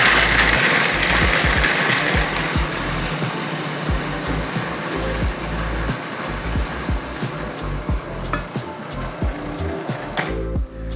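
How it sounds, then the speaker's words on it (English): Food processor blitzing pistachios and asparagus into a paste, a loud continuous whirring grind with rough chopping texture, steady and close, ending abruptly. "add 50 grams of pistachios into the food processor and blitz into a paste"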